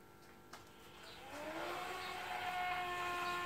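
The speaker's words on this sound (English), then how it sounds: "the first sound that you're going to hear is going to be the electric oil pump, the 12 volt electric pump in the drive unit spinning up" The 12 volt electric oil pump in a Tesla Model 3 drive unit spins up, a thin tonal whine rising and settling into a steady hum over low background noise, faint and alone.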